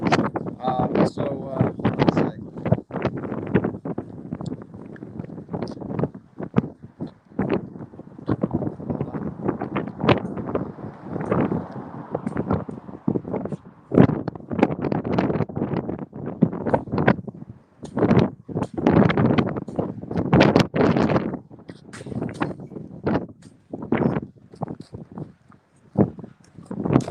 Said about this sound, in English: That wind is something else